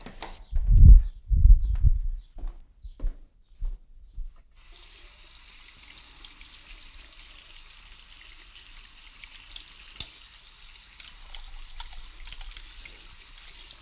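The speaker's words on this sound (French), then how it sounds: "Je vais rincer, pardon, mes pinceaux." Tap water runs steadily into a sink while paintbrushes are rinsed, after a few brief knocks and handling sounds; the flow is close and continuous, with no talk over it.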